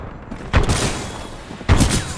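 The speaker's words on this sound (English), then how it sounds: "Oh, shotguns. Baby, I've missed you." Two loud, booming shotgun blasts ring out about a second apart in the video game Titanfall 2, each with a sharp onset and a long, rumbling tail.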